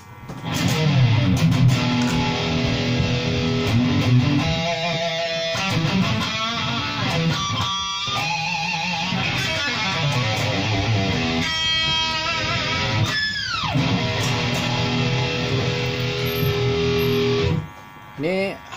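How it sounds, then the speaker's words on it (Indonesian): Electric guitar played through a 3-in-1 chorus, delay and distortion effect pedal, a loud, continuous overdriven tone with sustained chords and bending notes, briefly cutting out near the end. "Ini untuk distorsi."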